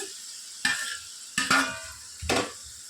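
Crispy potato fry sizzles in a hot pan over high flame, and three sharp stirs of the spoon scrape through the pieces, close and loud.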